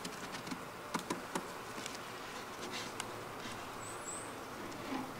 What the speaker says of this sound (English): So there's a bunch of nurse bees on here.